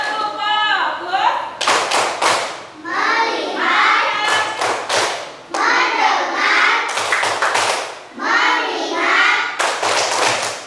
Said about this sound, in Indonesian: coba biar semangat ibu minta kalian tepuk fokus dulu